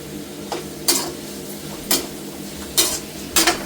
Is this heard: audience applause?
no